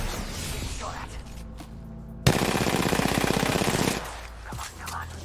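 Rapid automatic gunfire in Apex Legends erupts suddenly and loudly for under two seconds, a dense burst of shots over game ambience, with speech-like game sounds faint in the background.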